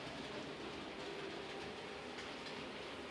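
A model railway train with three carriages runs steadily along the track, giving a continuous close rumble with a faint clickety-clack rhythm and no pauses.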